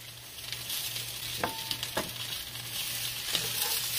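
Garlic and onions frying in a pan for beef birria, a steady broadband sizzle with a few sharp stirring clicks and scrapes, close and continuous with no talk.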